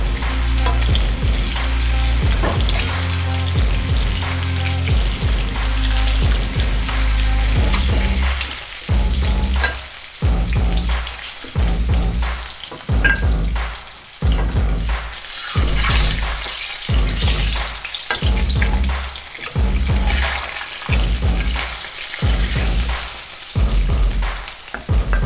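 Duck eggs fry in hot oil with a loud, constant sizzle and crackle, broken in the second half by a rapid run of rhythmic scraping or tapping strokes in the pan.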